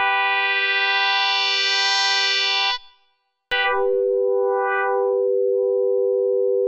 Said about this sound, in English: Throw some reverb on there.